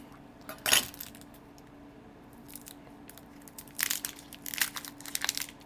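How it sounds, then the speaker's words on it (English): A knife slicing through an onion on a cutting board, one sharp crunchy cut followed by a cluster of crisp chopping crunches, close and clear in a quiet kitchen. "I'm gonna cut my onion in half."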